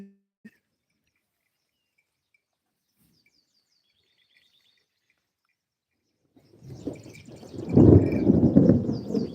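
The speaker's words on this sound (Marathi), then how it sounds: "खूप जोरात कडकडाट आवाज चालू आहे" Thunder rumbles over village cotton fields as a rain storm builds, silent at first with faint bird chirps, then a deep, loud rolling roar that swells and holds through the final seconds.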